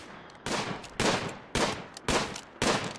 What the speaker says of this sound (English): I'm gonna shoot at this turkey forever and ever and ever.